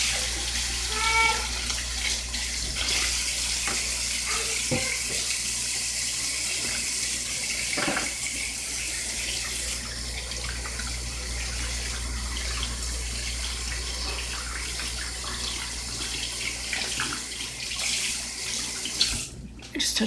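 Tap water runs steadily into a sink during handwashing, a continuous close hiss that lasts throughout, with a few faint household knocks and a brief louder clatter near the end.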